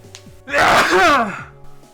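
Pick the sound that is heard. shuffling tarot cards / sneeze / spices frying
sneeze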